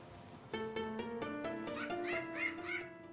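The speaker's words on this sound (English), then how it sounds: "These crows are a unique species, and they come from an island in the Pacific Ocean, the island of New Caledonia." New Caledonian crows caw a few times in succession, each harsh call clear and fairly close, with the later calls louder and more strident, heard alone with no talking.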